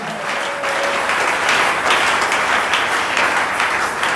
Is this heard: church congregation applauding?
yes